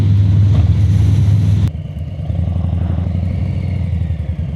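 Harley-Davidson Street Bob motorcycle engine under way, a loud low rumbling drone with a dull shift and change in pitch partway through, steady and close over wind, no voices.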